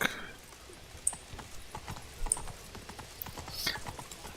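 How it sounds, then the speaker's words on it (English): Hoofbeats of Geralt's horse Roach galloping in The Witcher 3, a fast, steady clip-clop rhythm at moderate distance over faint ambient game sound, with brief louder thumps along the way. "I'm on a horsey, running around, running around."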